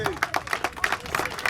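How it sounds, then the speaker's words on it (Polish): A crowd at a youth football tournament award ceremony in Kamienna Góra claps for a team called up to the front, a brief burst of quick, fairly loud applause with some chatter mixed in. "Wielkie brawa."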